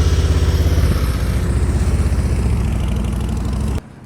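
A motorcycle engine putters steadily at low speed during slow-speed riding drills with cones, close and loud with a pulsing idle-like rhythm, then cuts off abruptly near the end.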